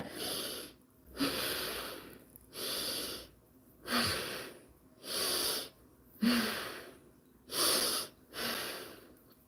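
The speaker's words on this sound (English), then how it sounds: "You basically close your mouth and you try to breathe from your chest or your belly." Slow, steady breaths drawn in and out through the nose with the mouth closed, a calm relaxation exercise; seven or eight airy rushes alternate with brief pauses in an even rhythm, close and clear with no talking.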